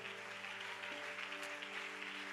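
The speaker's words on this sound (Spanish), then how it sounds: "¿Por qué no le da un aplauso al Señor?" A church congregation applauds during a service, a dense steady wash of clapping at moderate distance with a sustained organ-like tone underneath.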